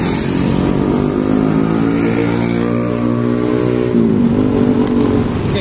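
A carbureted Honda Beat scooter engine runs steadily at a raised idle with the throttle set higher, a loud, even buzzing drone heard up close with a slight pitch shift near the end.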